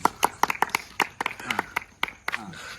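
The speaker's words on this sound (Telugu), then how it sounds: "అందరూ ఒకసారి గట్టి చప్పట్లు కొట్టండి." A small group claps hands at a birthday gathering, with sharp, uneven bursts of claps in quick irregular rhythm, close by, and a voice briefly heard near the end.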